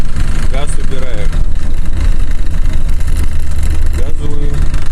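An unloaded car's engine revs up and drops off while driving, with a gearbox that knocks in first, second, third, fifth and reverse gears; someone talks loudly over the engine throughout.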